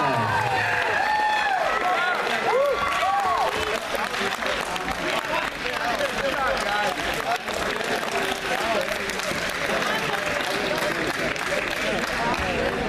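Crowd at a fight event applauding and cheering a split-decision result, loud and steady dense clapping throughout with voices talking over it.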